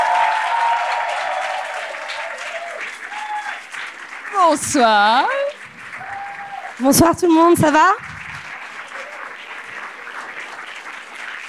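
Applause from a live audience welcoming a comedian guest onstage, continuing under a woman greeting the crowd, with pitched vocal sounds rising above the clapping in two bursts.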